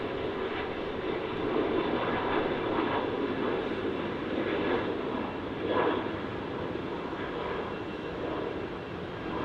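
An airliner takes off at Melbourne Airport, rotating early: a steady, loud, broadband jet roar that stays constant throughout, with no voices.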